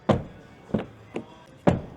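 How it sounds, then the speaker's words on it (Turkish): Doors of a 2024 Renault Duster are worked open and shut, producing four separate solid thuds and latch clunks, close and fairly sharp, in otherwise quiet surroundings. "Kapı sesini genelde merak ediyorsunuz."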